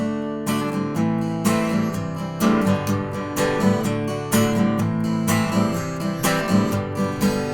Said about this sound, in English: Just playing straight open chords